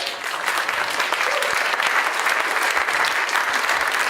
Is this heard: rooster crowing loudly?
no